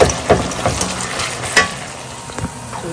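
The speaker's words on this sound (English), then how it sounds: "you just have to cook the oil, the onions until well done" Onions fry in oil for biryani, a close, steady sizzle broken by several scraping stir strokes in quick succession, with no talking.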